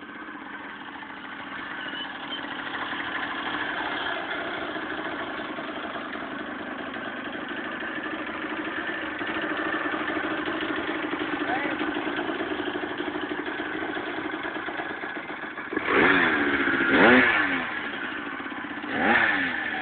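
A Yamaha DT 180 motorcycle engine idles steadily and close by, with a mid-pitched chugging for most of the time, then two sharp revs near the end.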